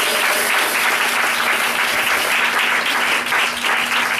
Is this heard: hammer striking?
no